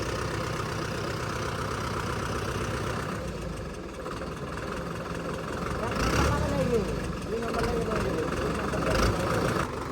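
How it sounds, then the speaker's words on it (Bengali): A Mahindra 595 four-cylinder turbo tractor engine idles with a steady low rumble, with people talking over it. "এই যে মাহিন্দা ফাইভ নাইন ফাইভ দিয়ে এটা হচ্ছে টার্বো ইঞ্জিন ফোর সিলিন্ডার"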